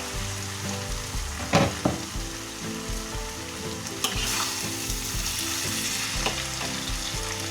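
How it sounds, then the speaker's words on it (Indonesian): Rice vermicelli fries in a pan while being stirred: a continuous sizzle with occasional scraping strokes, set under soft background music. "kita aduk bihunnya"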